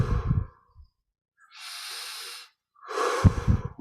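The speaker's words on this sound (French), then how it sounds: "On va reprendre 10 respirations profondes." Slow, deep breaths during a guided meditation: a long audible exhale, a quiet pause, then a drawn-out airy inhale followed by another breathy exhale, close to the microphone with no speech.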